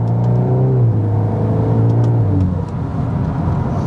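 A 2021 VW Golf R accelerates onto the Autobahn, its engine note climbing steadily in pitch, then dropping at a gear change before pulling again, loud and close from inside the car.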